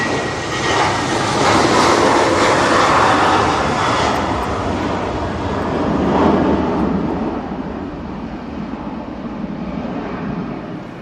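An ATR turboprop airliner accelerates down the runway at windy Manchester Airport, a sustained heavy roar that builds early, holds steady and slowly fades over about eleven seconds, with gusty wind noise in the background.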